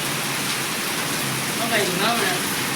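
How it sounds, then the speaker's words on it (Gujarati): Steady rain falls, an even, close hiss filling the whole stretch, with a faint voice murmuring briefly in the background. "અમારે હે ને પાછો વરસાદ ચાલુ થયો હે"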